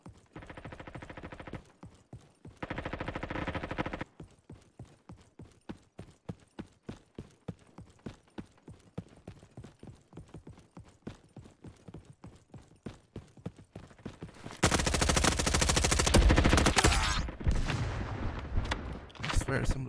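Rapid gunfire in the Roblox shooter Frontlines, a long run of sharp repeated shots with bursts of heavier sustained firing and noise near the end.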